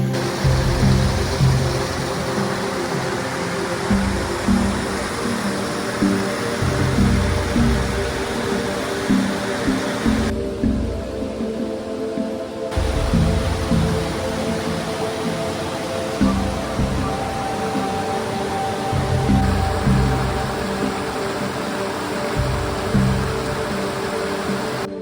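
Pala U waterfall in Thailand pours steadily as rushing water, a broad continuous roar close by that persists throughout with slight surges in intensity.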